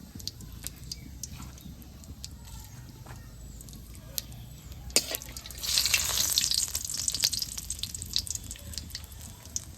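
Whole cumin seeds dropped into hot oil in a pan while cooking goat meat curry, a quiet crackle swelling into a louder bright sizzle midway, with scattered clicks and scraping.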